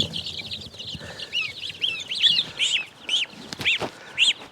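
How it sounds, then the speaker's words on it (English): A baby goose on a farm gives high, thin peeps in a quick irregular series, close and clear over a soft background, with no talking. "This is a baby goose."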